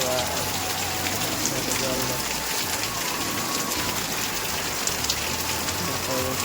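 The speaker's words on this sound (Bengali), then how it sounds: "এখন বৃষ্টি শুরু হলো বৃষ্টি" Steady rain patters densely on a surface, continuous and even, with a voice faintly underneath.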